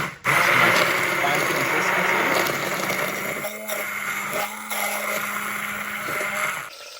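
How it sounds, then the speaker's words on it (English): A blender purees peeled tomatoes with a loud, steady motor whir that starts abruptly, runs for several seconds with a slight drop in pitch midway, then cuts off. "we got some peeled tomatoes here. We're just gonna puree these up real quick"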